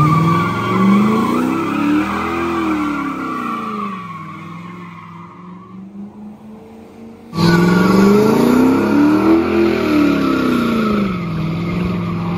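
A Buick race car is driven close by, its engine droning loud and steady with rising and falling pitch as it revs through gears, then dropping away before surging back hard for the last several seconds.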